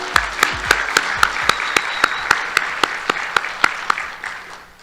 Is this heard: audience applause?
yes